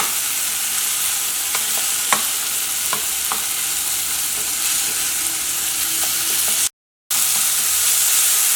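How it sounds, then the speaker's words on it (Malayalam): Tomatoes frying in an open pan for wheat-flour upma, a steady close sizzle broken by scattered scraping clicks of a spoon stirring, with a brief total dropout near the end before the sizzle resumes. "തക്കാളി എന്നാലും ഇതേപോലെ തുറന്നിട്ട് ഒന്ന് ഇളക്കി കൊടുക്കാം"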